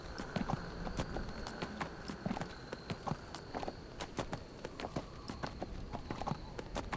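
A plain horse mount in the video game Neverwinter trots along, its hooves clip-clopping in a steady, even rhythm for several seconds over a constant game background.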